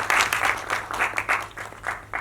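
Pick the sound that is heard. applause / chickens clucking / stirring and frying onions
applause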